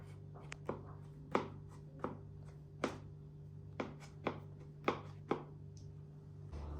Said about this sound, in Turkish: Onu döndürüp keseceğim